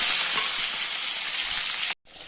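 Tomato, small shallots and curry leaves hit hot oil with popping mustard seeds for a mixed-vegetable sambar, a loud bright hiss of frying that cuts out abruptly near the end, then resumes more quietly.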